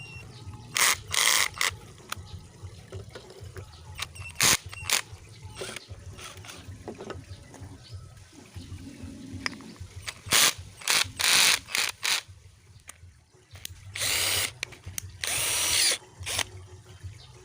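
A cheap 28V cordless drill drives a screw into wood in several short bursts of whirring and ratcheting, loud and close, separated by pauses.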